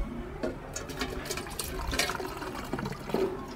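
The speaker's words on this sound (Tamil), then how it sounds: "இப்போது வேறு தண்ணி புதுசாக ஊற்றுங்க." Fresh water poured into a car radiator while topping up coolant, a steady close splashing and gurgling fill with a few louder surges, no talking.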